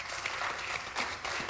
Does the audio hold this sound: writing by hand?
no